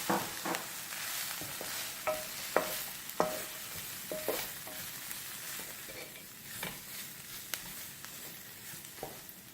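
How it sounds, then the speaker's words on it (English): Cumin, coriander, paprika and garlic stirred in a pan, quiet sizzling under repeated light scrapes and clicks of a utensil against the metal, close and fairly faint. "So we'll just give that a nice stir."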